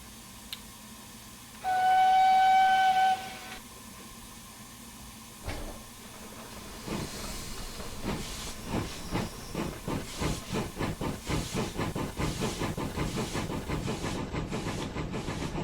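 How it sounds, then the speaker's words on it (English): Steam injectors on a Wayside Works W4 Peckett saddle-tank locomotive in Train Simulator 2021 hiss loudly for a couple of seconds, then a brief release, followed by rhythmic chuffing exhaust beats that build steadily as the engine trundles off. "We've got the injectors going off, as you can hear there, when it goes into release"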